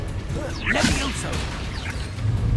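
Levioso levitation spell cast in the video game Hogwarts Legacy, a bright sweeping whoosh with shimmering swirls that rises and falls over about a second, followed by softer swishes under steady background noise.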